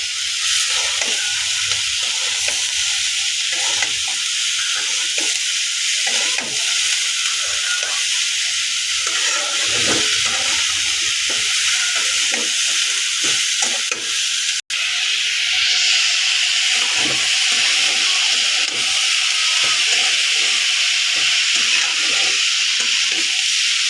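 Food sizzles and hisses steadily in a cooking pan while being stirred, with soft scraping and clinking strokes scattered through nearly half a minute of continuous frying noise, loud and close.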